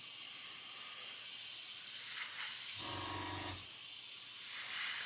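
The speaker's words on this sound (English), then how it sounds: "Just spray the inside of this door." A continuous aerosol spray paint can hisses loudly and close, spraying the inside of a model door, with a brief low rattling hum partway through.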